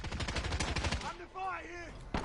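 Automatic gunfire in Call of Duty Modern Warfare, a rapid burst of shots up front, then game voice chatter and a final single shot.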